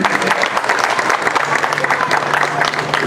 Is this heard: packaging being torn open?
no